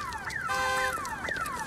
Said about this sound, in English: fed up with the relentless din of car alarms, which seem to go off every 10 minutes